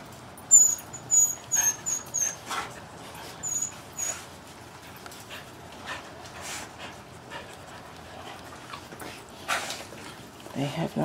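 Puppies near a new x-pen tunnel, suspended just off the ground beside their kennel, give a run of high, close whimpers and whines, then pant and snuffle, while a person talks at times.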